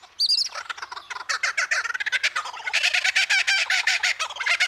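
A male superb lyrebird in Australia rapidly mimicking other birds' calls, a loud, close run of varied chirps, trills and gobble-like bursts with no pauses.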